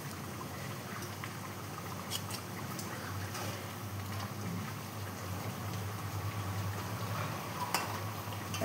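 Chital fish curry with ghee and coriander bubbles and sizzles in a pan with a steady, even crackle, broken by a few faint clicks of stirring, and no voices.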